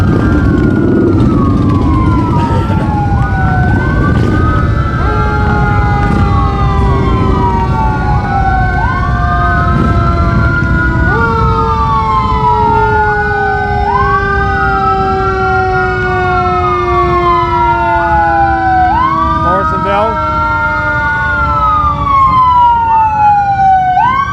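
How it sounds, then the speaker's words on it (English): Morrisonville EMS emergency vehicle siren wailing loudly and continuously, its rising and falling sweeps repeating while the vehicle passes close by amid rain, with steady road and engine rumble underneath and no talking. "Another Morrisonville EMS vehicle."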